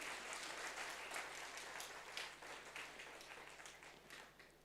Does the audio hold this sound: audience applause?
yes